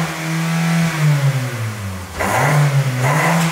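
A Jaguar XJ6 engine with a megaphone exhaust revs up and down twice, rising and falling in pitch, loud and close, with no talking.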